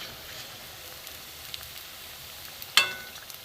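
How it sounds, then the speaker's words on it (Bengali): Boondi for motichur laddu fry in oil with a soft, even sizzle that runs throughout. A single sharp clink comes near the end. "লাল করে ভাজা, দেখুন ভাজা হয়ে গেছে।"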